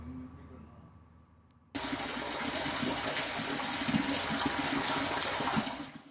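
Spring water gushes into a house-yard well in Perumbavoor, Kerala, like an opened pipe. After quiet background, a loud, steady rushing pour starts abruptly and continues close by before easing slightly at the end.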